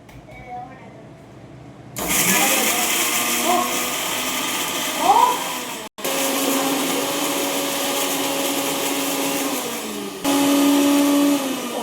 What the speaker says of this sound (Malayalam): നമുക്കിതെല്ലാം കൂടെ മിക്സ് ചെയ്തിട്ട് ഈ മിക്സിയിൽ ഇട്ട് ചതക്കണം